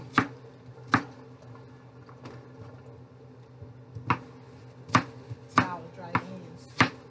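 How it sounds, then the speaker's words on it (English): A knife chops an onion into chunks on a cutting board, sharp distinct thuds landing irregularly, a few isolated at first then quicker clusters toward the end, close and clear with no talk. "I'm going to take that onion and I'm going to cut nice chunks out of it."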